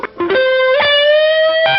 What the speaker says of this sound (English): I like the distortion. It's very creamy